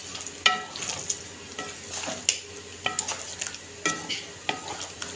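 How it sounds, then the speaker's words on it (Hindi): Spinach koftas are gently stirred with garam masala in a sizzling pan, giving soft frying hiss under repeated light clinks and scrapes of a spoon against the pan, close-up, without talking. "गरम मसाला डालने के बाद इसको हम हल्का से मिक्स कर"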